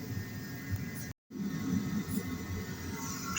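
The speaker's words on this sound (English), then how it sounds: "Excuse the noise again, but the heater's going." Workshop heater running during repairs on a rusty Volkswagen T4, a faint steady broadband hum and rumble that briefly cuts out before resuming.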